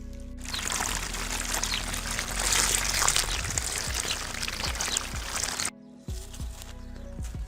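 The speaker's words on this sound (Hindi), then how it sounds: "पानी मैंने लगा दिया है" Irrigation water pours steadily onto a tomato field on a farm, a continuous splashing gush that cuts off abruptly near the end, leaving lighter trickling.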